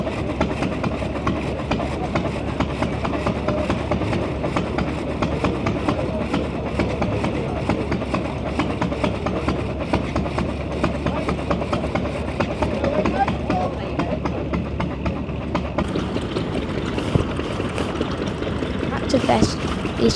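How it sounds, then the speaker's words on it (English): Steady low mechanical rumble of a steam-powered saw set up to cut a log at a UK vintage tractor and engine show, running continuously with engine-like chugging and clattering, plus brief sharper noises near the end. "these people are setting up a steam-powered saw to eventually cut off a piece of"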